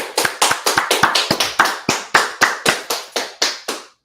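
A group claps hands at an outdoor street gathering in Washington DC, sharp loud claps landing in a quick irregular rhythm for about four seconds with no talk.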